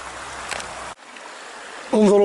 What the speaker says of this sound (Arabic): يسير النهر في هذه المنطقة الجبلية الصخرية.